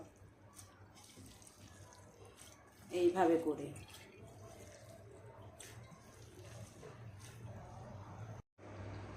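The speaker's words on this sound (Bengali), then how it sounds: "এখন হাত দিয়ে একটু পানিগুলা চিপে চিপে ভালোভাবে গিয়ে নিব যতটুকু সম্ভব" Soaked, drained raw green mango pieces squeezed by hand to press out water, giving a short burst of wet squelching and dripping partway through, with someone speaking over a quiet room background.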